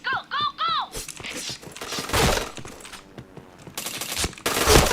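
Rapid gunfire in the shooter game Point Blank, sharp close bursts and single shots with chirpy in-game effect tones at the start and louder clustered volleys later.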